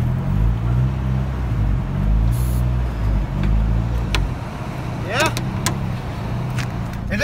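A Mazda Miata with new wheels rolls forward, its engine rumbling low and steady close by. It then quiets and a few sharp clicks follow. People talk over it.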